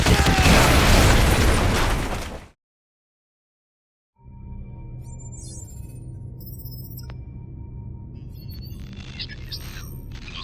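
A loud, dense roar of artillery strike explosions in a Call of Duty: Modern Warfare 2 cutscene cuts abruptly to silence, then a low rumbling hum returns with scattered mechanical clicks and faint bursts.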